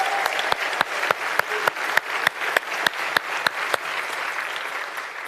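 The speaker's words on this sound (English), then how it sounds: "I think Henry and the entire team do deserve a round of applause." Moderate applause from a convention audience, a steady rattle of many hands with a few sharp, close claps standing out at irregular moments, gradually thinning toward the end.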